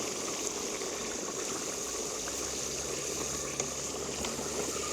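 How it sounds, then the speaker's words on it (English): Steady, dense sizzling and crackling of snow crab legs frying in oil, continuous and fairly close, with a few small pops and no voices. "you can hear the moisture or the water come out of your snow crab"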